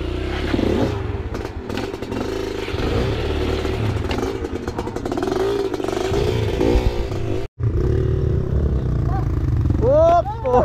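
An enduro motorcycle rides an off-road trail, its engine rising and falling in repeated revving bursts amid clattering and scraping, with a brief dropout midway and voices talking near the end.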